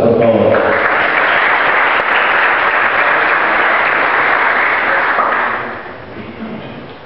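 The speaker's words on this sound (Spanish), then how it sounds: "Fuerte aplauso, por favor." A crowd at a charity foundation presentation in Neuquén claps loudly and steadily for several seconds before the applause tapers off and fades near the end.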